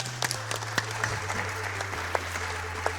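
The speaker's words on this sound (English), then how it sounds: "please don't clap for that" Audience applause at the SGDQ 2017 speedrun marathon during a Startropics run: steady, moderately loud clapping from a crowd for about three seconds over a low electrical hum.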